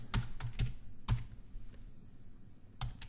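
A folder name typed on a computer keyboard: a handful of crisp key clicks in a short burst, a pause, then a final tap, close and quiet, with no talking.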